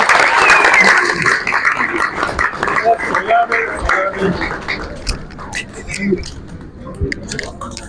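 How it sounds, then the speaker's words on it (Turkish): Audience applause at the premiere of a local Turkish cinema film, steady clapping from a crowd filling the space, loudest at the start and thinning slightly, mixed with chatter and voices throughout. "alkışlarınız için de ellerinize sağlık"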